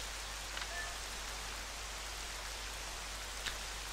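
Rain falls in The Legend of Zelda: Twilight Princess, a steady soft hiss of game rainfall with a low constant rumble beneath and a couple of faint drop clicks.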